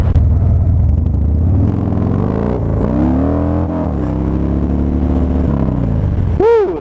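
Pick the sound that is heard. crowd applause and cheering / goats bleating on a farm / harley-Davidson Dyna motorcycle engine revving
harley-Davidson Dyna motorcycle engine revving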